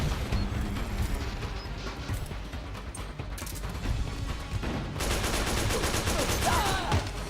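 Gunfire in Metal Gear Solid 4 rattles in a dense, sustained barrage of rapid shots and crashes, steady and loud, with the shooting growing even thicker toward the end.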